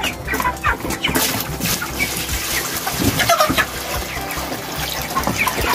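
Chickens clucking outdoors in a rural country setting, with scattered busy clucks over a noisy, steady background, moderately close.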